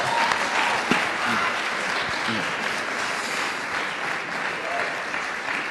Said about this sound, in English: Ladies and gentlemen, give His Excellency Joseph Kabuleta a very big hand clap.